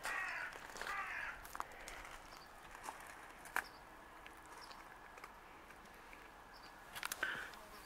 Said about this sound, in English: Oh dear, that was a big crow.